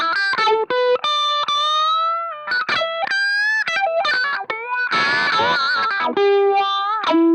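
An electric guitar plays through effects switched by a Behringer FCB1010 foot controller, with loud, sustained distorted notes and chords, pauses between phrases, and a dense strummed burst near the end.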